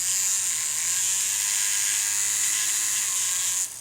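An HO model train locomotive motor runs on a test track with a steady, close, high-pitched whirring buzz that holds evenly, then cuts off at the end.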